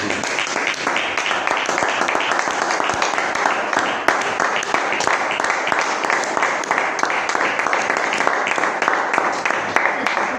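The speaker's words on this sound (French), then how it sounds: "Applaudissons pour le Seigneur." A church congregation applauds for the Lord, a dense, continuous clapping that stays loud and even throughout, with voices mixed into the crowd.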